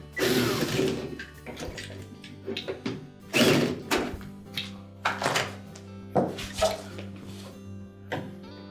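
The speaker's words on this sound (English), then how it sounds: "Now once we have all 3 screws started, we can tighten them up." Screwdriver tightening the three mounting screws of a condenser fan motor on a Whirlpool refrigerator, giving a string of close, uneven clicks and thunks with short pauses between bursts.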